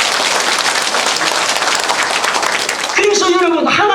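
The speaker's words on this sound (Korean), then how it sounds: "오늘 여러분 예수 믿고 하나님의 말씀을 듣고 이 자리에 오신 여러분을 위해 자기를 위해서 한 박수 칩니다" A church congregation applauds itself during a Sunday service in Ulsan, a dense, loud wash of many hands clapping for about three seconds before fading as a voice begins speaking over the tail.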